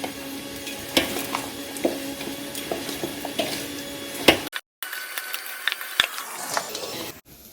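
Chilli flakes masala being mixed for Vizhinjam chicken fry, close scraping and stirring clicks with a light sizzle, repeated strokes, a brief gap near the middle.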